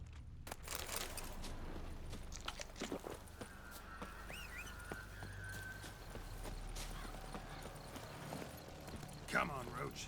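Faint hooves of Roach the horse clip-clop steadily through The Witcher 3, a quiet rhythmic patter under sparse voices, with a few louder knocks and a brief whinny-like cry near the end.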